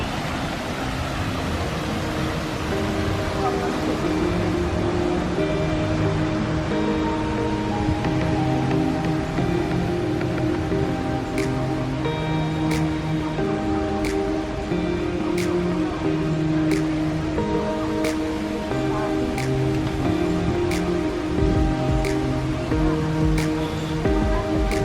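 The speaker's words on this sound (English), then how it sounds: "The rain in the jungle." Steady rainstorm pouring over the jungle area at Animal Kingdom in Walt Disney World, a continuous broadband hiss of drops on foliage and surfaces, with faint sustained tones underneath and no talking.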